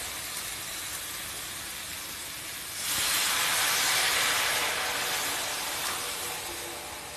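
About one and a half cups of water poured onto hot fried spice paste for a gravy, setting off a sudden loud hissing surge of steam that swells and slowly fades after a quieter cooking background.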